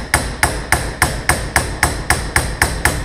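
A hammer strikes a bent metal scooter brake lever again and again, about eleven sharp, loud, evenly spaced metallic blows in steady rhythm, close up with no talking.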